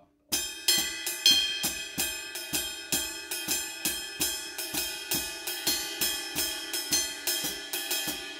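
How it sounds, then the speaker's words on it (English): A drum kit plays a steady Latin pattern alone, with evenly spaced ride cymbal strokes over a left-foot hi-hat clave rhythm, close and clear for several bars. "left foot clave with the ride cymbal."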